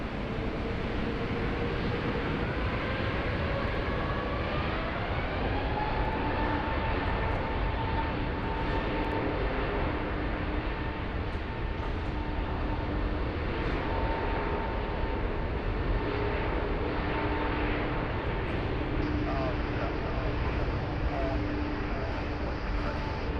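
A Qantas jet airliner taking off from runway 16 right at Sydney Airport, a distant steady engine roar with rising whining tones, heard under faint background chatter.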